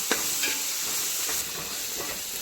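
Tomato, ginger, garlic and green chili sizzle in a pan for chicken curry, a steady bright frying hiss with a few soft stirring taps, close and continuous, no talking.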